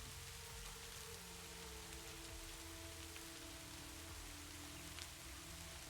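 Steady rain falls on a surface, an even, unbroken hiss of drops throughout at a soft, constant level, with no voices.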